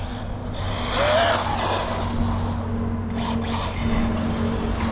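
An Asuga XLR RC car speeds along, its small motor whining steadily with a brief tyre skid midway, fairly close and continuous.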